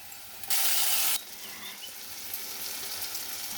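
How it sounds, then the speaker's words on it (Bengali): Onions and chopped tomato fry in a pan, a brief loud burst of sizzling early followed by a quieter continuous hiss and crackle. "এবার আমার পেঁয়াজ টমেটোটা ভাজা ভাজা হয়ে এসছে।"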